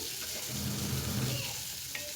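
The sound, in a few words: tempering with green chillies and onions frying in pan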